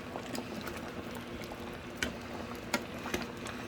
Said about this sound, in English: Just put in the coconut milk and I'm gonna make it simmer down.